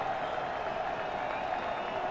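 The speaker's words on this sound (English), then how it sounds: "Money down for this defense as the crowd is on their feet." A college football stadium crowd at a 2009 Kansas State versus Iowa State game roars and applauds on third down, a steady, dense wash of cheering throughout.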